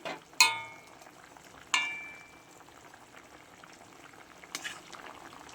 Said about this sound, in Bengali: মাছটা দিয়ে একটু ফুটিয়ে নেব